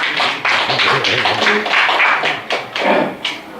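Crowd of members applauding at an association's annual general meeting, a dense wash of clapping from a room full of people, with brief louder surges and some talk mixed in.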